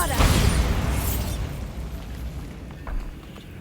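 Bombarda explosion spell from the Hogwarts Legacy video game, a loud, deep blast that rolls into a long rumbling decay, followed by a smaller thump near the end, with no speech heard.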